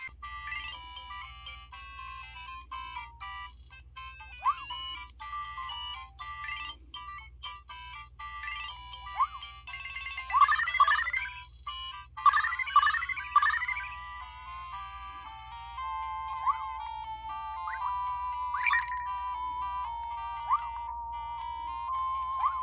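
Mega Drive Road Rash game music playing through emulation on an Anbernic S-100 handheld, a bright chiptune melody with steady bass and quick arpeggiated runs midway, continuous and moderately loud with no talk.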